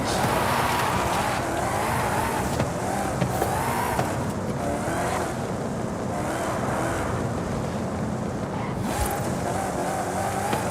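Hyundai race car with a 1.6 turbo engine racing in Forza Horizon 5, engine droning continuously with gear-shift surges and tire squeal and skidding, loud and steady throughout.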